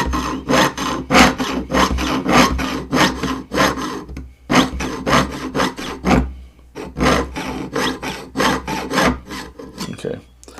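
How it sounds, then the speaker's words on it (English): Jeweler's saw cutting metal, close rhythmic rasping strokes in quick succession with brief pauses, loud and dry, no talk. "when I'm sawing like this"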